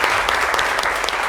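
Brief, dense applause from a studio audience greeting the Cameroonian community present in Côte d'Ivoire, steady and fairly loud throughout.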